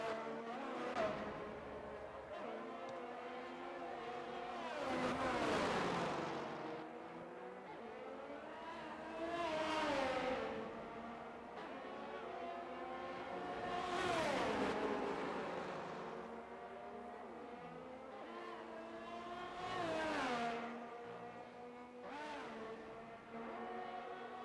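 An Alfa Romeo race car laps the Hungary circuit in a racing video game, its engine revving loudly, climbing and dropping through the gears again and again as it brakes and accelerates, with no talk over it.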